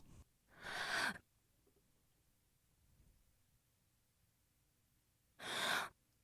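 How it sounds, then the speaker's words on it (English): Two separate breaths taken during a sung vocal recording, each a short airy inhale, close and isolated, with quiet near-silence between them. "if I click breath, all I can hear is the breath"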